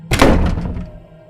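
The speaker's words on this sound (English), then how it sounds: "Then it would slam shut, like it was being pushed." A door slams shut with a single heavy, close thud that rings out and fades over about a second, standing alone with no voices.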